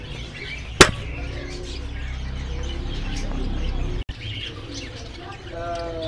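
Yellow-chest breeder-pair birds chirp at a Sunday bird market on Kasi Road in Quetta. Faint, scattered tweets sit within a constant low market hum, with a sharp knock near the start and a voice-like tone toward the end.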